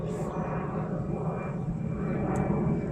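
An airplane flies overhead near an airport, a steady broad engine roar that holds loud and continuous throughout, with no talking over it.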